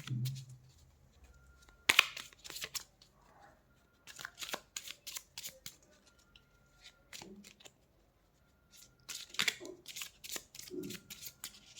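Tarot cards are shuffled in short, crisp riffling bursts separated by quiet pauses, near and fairly soft, with faint low speech at the very start.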